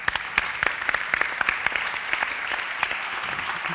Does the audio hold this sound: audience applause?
yes